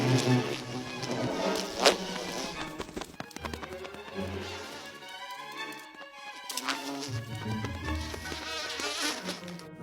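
Bees buzz around forest flowers, a close, wavering drone rising and falling as they hover and feed, with a stretch where the whine comes through on its own between louder, busier passages.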